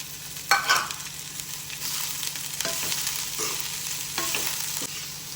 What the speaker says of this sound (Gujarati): હવે એમાં આપણે સ્પ્રિંગ અનિયન એટલે કે લીલી ડુંગળી નાખી દઈશું.